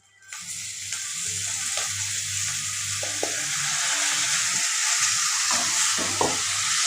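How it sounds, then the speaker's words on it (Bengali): Boiled banana flower being fried with spices in a pan gives a steady, close sizzle, broken by repeated scraping and clicking of a spatula stirring the mixture. "এবার মোচাকে একটু এর সাথে কষিয়ে নেব"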